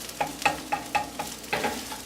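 Duck crispies sizzle in a pan on a medium burner while a utensil stirs them, giving a steady fry hiss with about seven rhythmic scraping strokes, close and fairly loud.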